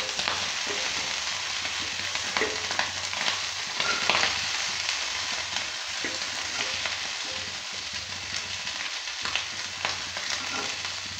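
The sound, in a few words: frying pieces in oil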